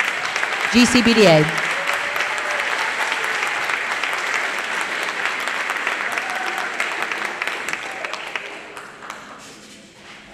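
Sustained applause from a school concert audience honoring band students, dense clapping throughout with a brief voice near the start, fading toward the end.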